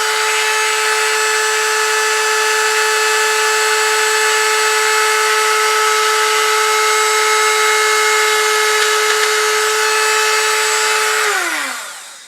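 A high-pitched rotary tool with a stone burr drills into a sea urchin shell, whining steadily for about eleven seconds, loud and close, then winds down as it stops.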